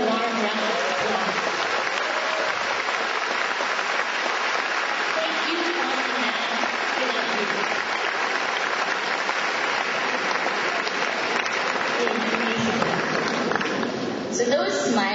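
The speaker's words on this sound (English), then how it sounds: "let us all give them a warm round of applause" Graduates at a graduation ceremony applaud their parents in a warm, sustained wash of crowd clapping, with voices calling out over it for about fifteen seconds.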